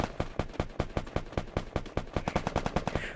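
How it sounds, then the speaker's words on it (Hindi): Steady automatic gunfire in the mobile battle-royale game Free Fire: an even stream of sharp, fairly close shots at about five per second, with no other sound. "फायरिंग की आवाज़ मुझे आ रही है बीच बीच में।"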